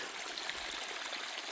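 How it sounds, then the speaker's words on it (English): Mountain spring water trickling out of a hillside in forest wilderness, a steady soft hiss of running water with no breaks or talk. "it looks like a spring that starts right up the hill there"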